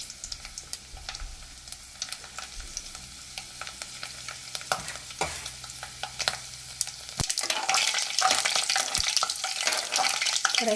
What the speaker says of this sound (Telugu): ఇంకా కొంచెం ఎల్లిపాయలు, ఇవి మొత్తం బ్రౌన్ కలర్లో వచ్చేంత వరకు అయితే మగ్గించుకోవాలి.